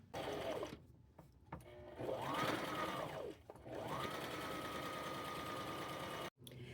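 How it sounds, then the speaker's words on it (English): A sewing machine stitching a patch onto a T-shirt, a steady close mechanical whir that runs in long stretches, speeding up and slowing, with short pauses between runs. "place it right here, pin that and sew that on"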